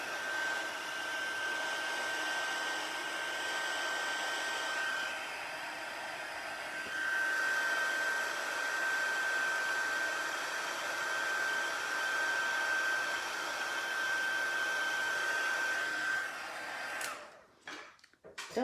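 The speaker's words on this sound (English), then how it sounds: "Don't forget to make sure that you allow your heat tool to heat up first" A crafting heat tool blows hot air in a steady, loud whirring roar with a faint high whine, running continuously before cutting off with a few bumps near the end.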